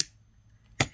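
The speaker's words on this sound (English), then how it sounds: "And cut off our excess wire" Wire cutters snip excess jewelry wire while earrings are made with beads: a sharp close click near the end of a quiet moment, then a softer second tick.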